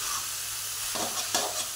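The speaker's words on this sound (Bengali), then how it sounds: "চিনি দিয়ে ভালো করে নেড়ে নিলাম।" Cabbage with sugar stirred in a hot pan: two short scraping strokes of a spatula over a soft, steady sizzle, close and fairly quiet.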